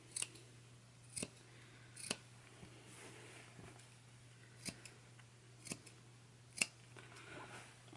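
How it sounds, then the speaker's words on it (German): Scissors snipping a fabric seam allowance around the outer curves of a sewn peaked cap, a series of sharp separate clicks spaced about a second apart over a quiet steady hum. "Und hier an diesen äußeren Rundungen schneiden wir die Nahtzugabe zurück."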